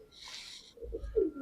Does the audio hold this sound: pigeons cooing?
yes